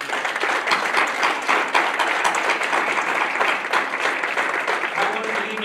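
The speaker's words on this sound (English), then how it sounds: "please, if you would, just one more round of applause for Dr. Katherine" At an evening lecture in an academy hall, the audience gives the speaker a sustained round of applause, many hands clapping close and loud in a dense, even roar, with some talk mixed in beneath.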